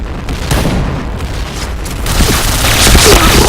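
A grenade explodes in the shooter game Point Blank. It is a loud, rumbling boom that swells and holds heavy, with a burst of crackling debris building toward the end.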